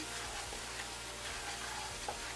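Bitter gourd with shrimp frying in a pan, a soft continuous sizzle with faint stirring scrapes, low and steady throughout.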